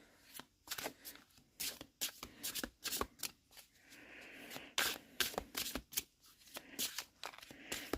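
Large oracle cards are shuffled by hand in a quick, uneven series of close, crisp riffles and slaps with short pauses between bursts.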